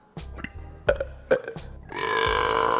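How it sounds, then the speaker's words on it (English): A few short clicks and grunts lead into a long, loud, rumbling burp that carries on to the end. "Challenge number 1, a burping contest."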